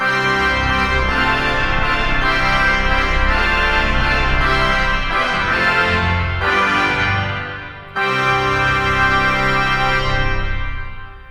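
Huge 121-rank church pipe organ with 64-foot stop, full plenum plus the chamade trumpet stop, blaring bright sustained chords very loud, a brief cutoff mid-way, then a powerful final chord ringing out.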